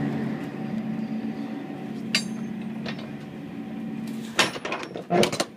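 Lock rods on a 53-foot Utility reefer trailer door close and latch, giving a few sharp metallic clanks and rattles near the end over a steady low hum of background machinery.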